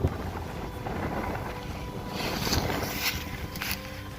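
Strong wind buffeting a microphone outdoors, a steady low roar with gusts that swell and fade throughout, no voices.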